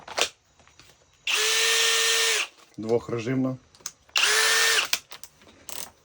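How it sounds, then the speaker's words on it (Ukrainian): A Flex 24V cordless impact drill with two modes runs in two loud, steady bursts of about a second each, with someone talking between and after them. "Комплектації є наша ударна дриль."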